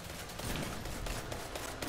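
Rapid hand cannon gunfire in a shooter video game, a dense burst of loud overlapping shots rattling steadily for two seconds with no talking.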